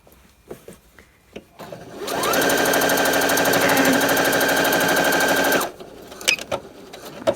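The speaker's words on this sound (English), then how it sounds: "I'm edge stitching this down." A sewing machine edge-stitches a jacket placket in one loud, close, rapid buzzing run lasting about three and a half seconds, with small handling clicks before and after.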